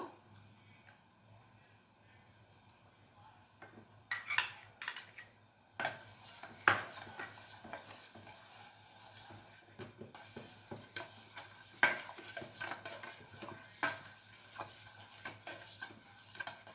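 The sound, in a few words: stirring neem leaves into melted mixture in a pan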